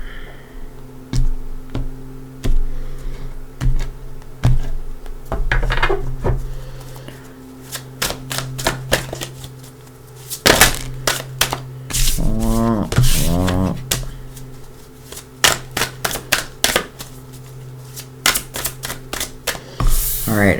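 Tarot cards are shuffled by hand up close, with rapid clicks and riffling flutters alongside sharp taps and brief pauses.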